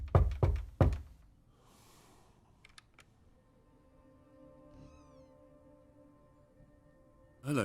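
Knocking on a door in the video game Conway: Disappearance at Dahlia View, several loud, close raps in quick succession at the start, then quiet ambience with a faint sound at the end.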